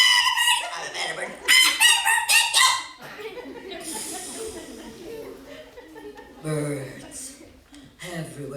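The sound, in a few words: voice imitating bird squawks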